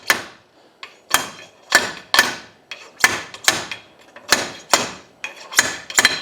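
Sharp hammer blows drive a steering stem bearing race down on a Honda XR250R, about a dozen close, loud metallic strikes in an uneven rhythm, some in quick pairs, with no talking.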